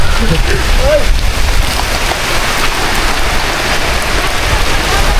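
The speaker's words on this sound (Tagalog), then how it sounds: "ang lakas na ng ulan" Steady, loud heavy rain at a campsite in Sitio Tangal, Zambales, roaring across the whole clip, a dense continuous wash of noise with faint voices mixed underneath.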